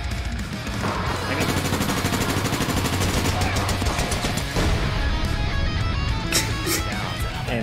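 Rapid automatic gunfire in the All Points Bulletin Reloaded video game, dense bursts of shots and clatter running loud and nearly continuous with chaotic game effects behind.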